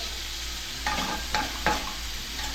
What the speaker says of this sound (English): How long are we going to sear these for?